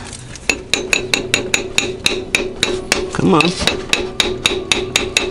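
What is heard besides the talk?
hammer tapping bearing into place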